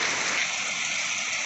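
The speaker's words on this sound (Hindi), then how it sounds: "यहाँ आप हमारे आंगन में भी देख सकते हो कि पानी का प्रवाह बहुत तेज़ी से बढ़ चुका है" Heavy rain pours down in a rural courtyard while floodwater gushes quickly past, a steady, dense hiss and rush of water filling the whole span with no pauses.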